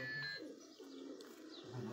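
Pigeons coo softly on a rooftop in Mianwali, low rounded calls repeating at an unhurried pace amid faint background noise, with a thin high whistle-like tone briefly at the start.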